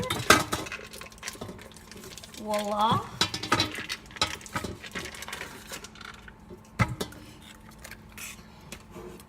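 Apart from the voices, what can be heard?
whisk clinking in a bowl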